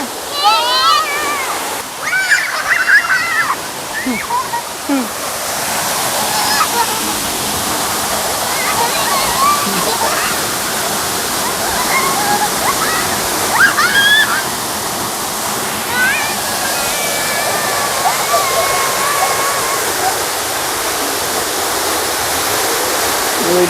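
Saeng Chan waterfall (Nam Tok Long Ru) pours in a steady rushing roar of falling water with splashing, close and continuous, while people talk over it throughout.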